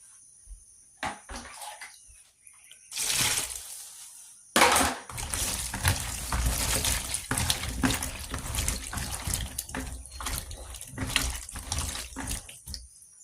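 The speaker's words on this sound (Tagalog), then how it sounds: "hugasan natin yung talong" An eggplant washed under a running kitchen tap, water splashing and trickling in uneven bursts after a few quiet taps and a short pause.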